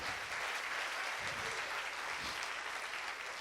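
A church congregation at a celebration service applauds, a soft, steady wash of many hands clapping at a distance, continuous for the whole stretch.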